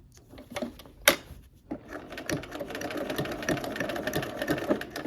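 A sewing machine works a buttonhole stitch with sparse ticks and a sharp knock at first, then a steady, busy stitching clatter that builds and continues to the end, close and free of talk.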